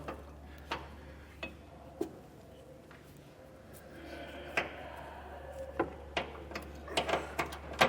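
A 10mm socket ratchet backs out the jounce bumper bolt on the rear axle of a 2012 Chevrolet, giving faint, close clicks in scattered short runs that come faster and more often toward the end, over a low steady hum.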